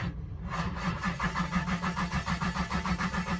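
Ford Focus project car fitted with a twin-turbo V8 cranks after a short pause, a rhythmic, pulsing starter churn that carries on at moderate loudness without the engine catching.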